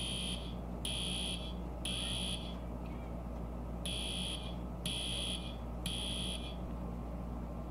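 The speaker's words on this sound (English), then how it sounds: "The fire alarm has ended, which means the fire drill is over." A fire alarm sounds during a school fire drill in six repeated, evenly spaced electronic blasts, loud and shrill over a steady low rumble of background noise.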